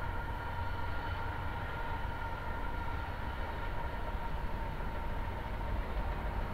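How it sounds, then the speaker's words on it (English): Norfolk Southern freight train 12Z rolling past at speed, a steady continuous rumble and rail roar with no pauses, moderately distant and unbroken throughout. "check out what we got going through right now. That's NS Train 12Z right there"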